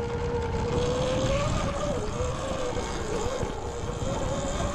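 An Eride Pro SS 2.0 electric dirt bike rides a trail, its motor a steady high whine that wavers in pitch with the throttle over constant rumbling wind and tire noise, loud and close throughout.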